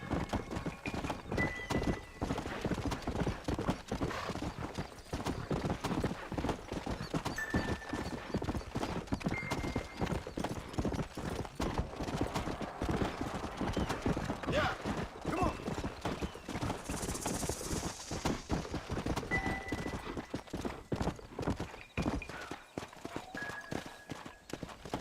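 Horse hooves clip-clopping at a steady trotting rhythm in the Red Dead Redemption video game, dense repeated hoof strikes close up and moderately loud, with a brief whinny near the middle and no talk.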